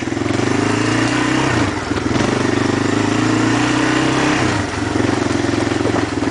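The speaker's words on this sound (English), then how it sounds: "Love hearing that Kawasaki engine roar." A Kawasaki Lakota ATV engine idles steadily with a low, throbbing rumble, up close, dipping briefly twice before settling back into its even purr.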